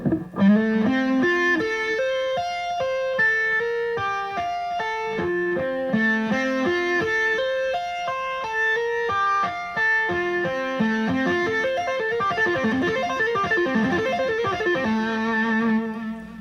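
A distorted electric guitar plays a slow tapped lick, notes stepping up and down in a steady run with sustained, overdriven tone.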